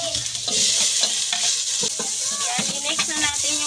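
Onion and tomato fry in hot oil with a bright, constant sizzle, punctuated by stirring clatters and scrapes close up, no talking.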